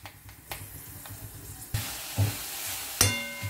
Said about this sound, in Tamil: ஜீரகம் நல்லா பொரிஞ்ச உடனே நம்ம இந்த வெங்காயம் சர்க்கரையை சேர்த்து வதக்கலாம்.